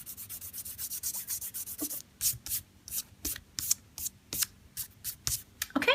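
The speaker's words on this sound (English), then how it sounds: "So you just take that off with your finger, just kind of rub it off" A finger rubbing dried masking fluid off watercolor paper, producing a steady series of short, close, dry scrubbing strokes in an even rhythm, with no talking.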